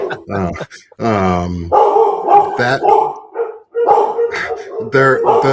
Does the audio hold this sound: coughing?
no